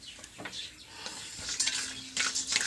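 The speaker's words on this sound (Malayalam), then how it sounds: "അടുത്തത് നമ്മൾ ബദാം, നമ്മുടെ അണ്ടിപ്പരിപ്പ് വറുത്തെടുക്കും." Almonds and cashews roasting in a pan, stirred with a utensil, giving a close, steady sizzle and crackle with scraping strokes and occasional clinks of metal against the pan, no voices.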